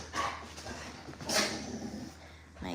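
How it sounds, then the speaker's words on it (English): Dogs at home give a few short barks and high whimpers, close by and moderately loud, in scattered bursts against a quiet room. "My crazy dogs."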